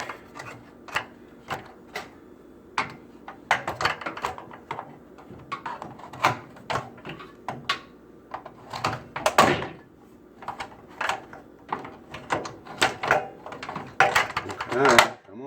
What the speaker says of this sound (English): I'm taking the door off.